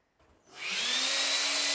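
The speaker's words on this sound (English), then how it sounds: "My leaf blower." A leaf blower starts up and spins to a steady, loud whining roar with a rising tonal hum, running continuously close by after a brief quiet moment, no talking.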